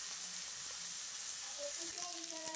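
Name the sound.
onion frying in oil with cumin, mustard seeds, garlic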